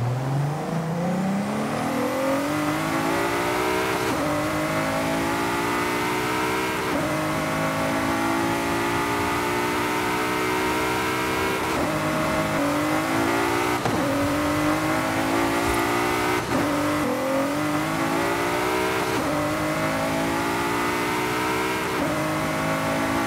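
A car engine in Forza Horizon 5, driven with manual gearbox and clutch, revs loudly and continuously, climbing through each gear with sharp drops at the shifts, repeated several times without any talking.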